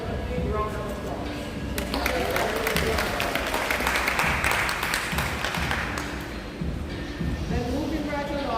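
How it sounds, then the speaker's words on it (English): Audience clapping at a cancer society annual general meeting, a steady round of applause from a crowd filling several seconds, with voices talking and calling out over it. "you all deserve a big round of applause"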